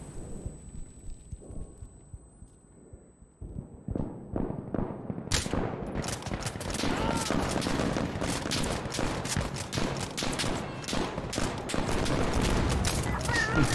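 Suppressed rifle fire in Insurgency: Sandstorm arrives as a dense, rapid run of muffled shots, with a quieter ambient stretch first and then sustained bursts of gunfire until the end.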